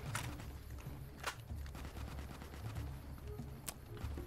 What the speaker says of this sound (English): Maybe I could arc the grenade launcher enough.